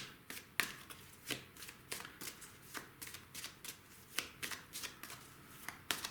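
Tarot cards are shuffled by hand in quick riffling bursts, a steady run of crisp papery slaps repeating about twice a second, close and alone without talk.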